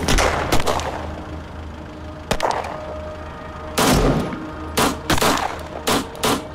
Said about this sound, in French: Des coups de feu retentissent de tous les côtés.